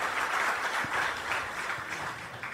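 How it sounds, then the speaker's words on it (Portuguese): Audience applause at a live show, a steady wash of many hands clapping together from a crowd, sustained and even throughout. "Também peço um aplauso para o diretor do Tempo que está aqui"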